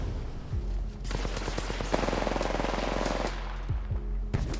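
Machine gun fire in Apex Legends, a sustained burst of rapid automatic shots lasting a few seconds, loud and dense, with quieter game ambience before and after and no talk.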